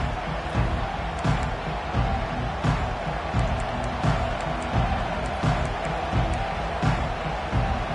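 A big football stadium crowd at Washington v Penn State roars steadily at the kickoff, a dense wall of cheering that swells at moments, with no clear talk on top.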